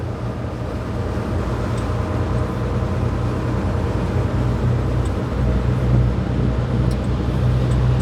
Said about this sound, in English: Look at that truck just throw snow.